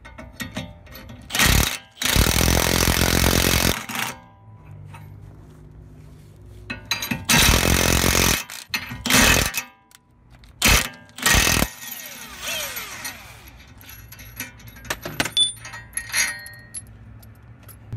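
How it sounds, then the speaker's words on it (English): A torque wrench with a 22 mm socket turns a wheel lug nut on a Lexus LS430, giving loud ratcheting and mechanical clicking in several bursts separated by pauses, close up with no talking. "all I did was take this torque wrench with a 22 and put it on here"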